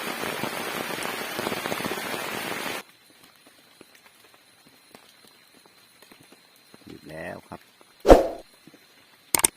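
Heavy rain pounds a forest campsite at night, a dense roar for the first few seconds that then cuts off abruptly, leaving near silence broken by faint scattered sounds, a brief voice and a sharp knock.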